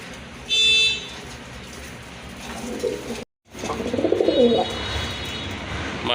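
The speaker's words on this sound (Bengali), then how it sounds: "এখন কিন্তু দেখতে পাচ্ছেন এক জোড়া রাজগোল্লা কবুতর" Low, rolling coos from a pair of Rajgolla pigeons repeat near the mic over a steady background hiss, with a brief dropout partway through and a faint buzzy tone early on.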